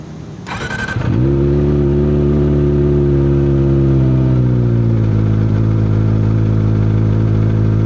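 A Kawasaki ZX-25R motorcycle engine with an Akrapovic exhaust catches after a brief crank, then settles into a loud, steady idle with a deep, throaty rumble.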